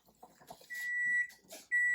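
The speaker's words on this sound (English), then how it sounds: "So the timer is up for my butternut squash." Kitchen timer beeping while butternut squash cooks, two sharp high electronic tones, the second starting abruptly and holding steady, close and clear over faint background clatter.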